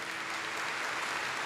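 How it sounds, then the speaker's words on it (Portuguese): A church congregation applauding during Mass, a dense, even wash of clapping from many people, distant and fairly faint, with no speech. "Aplaudamos essa palavra que nos salva."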